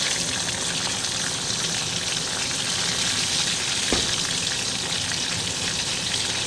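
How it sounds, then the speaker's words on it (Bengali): Chopped tomatoes hit hot oil tempered with whole cumin and cinnamon in a kadai, producing a loud, continuous close sizzle with one brief clink midway and no voices. "কুচি কুচি করে কেটে রাখা টমেটোগুলো দিয়ে দিলাম"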